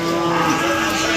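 A single sustained, loud moo from a Javanese-type cow at a cattle market in Pon, steady and close with a faint market murmur behind it.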